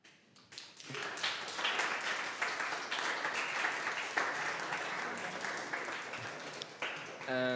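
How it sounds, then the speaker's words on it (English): Audience at a Debian technical talk breaks into sustained applause after the speaker's closing thanks, a dense wash of many hands clapping at steady loudness for several seconds before fading. "some claps."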